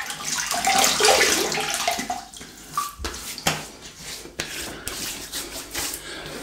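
Water splashed onto the face with the hands before a shave, a run of wet sloshing and dripping splashes of varying loudness, close to the microphone with no talking.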